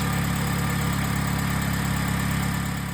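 Toyota Yaris II (XP9) engine idling with the coolant system opened at the upper radiator hose, a steady low, even hum running continuously at close range with no talk.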